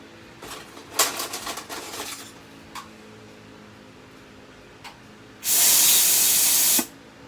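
In a jewellery casting shop, a steamer's factory-set, spring-loaded safety valve lets out a loud, close blast of hissing steam lasting over a second, after earlier lighter clatter and taps.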